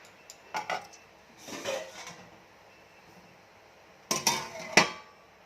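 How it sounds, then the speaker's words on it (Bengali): A lid set onto a cooking pot of kochur loti, a few sharp metallic clinks and clatters close by, spaced apart with quiet moments between them. "এবার ঢাকা দিয়ে দেব।"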